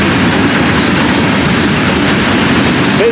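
A long FEC rock train, a freight hauling aggregate, rolls past close by with steady, loud rumbling and clickety-clack of wheels, one brief squeal near the end, no voices.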